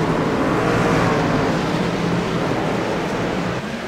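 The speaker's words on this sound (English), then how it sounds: "He spins the tires, Sam, and that truck comes right around" Truck in an iRacing sim truck series race at Martinsville spinning its tires to get back underway, a steady loud engine roar with continuous tire noise, no voices over it.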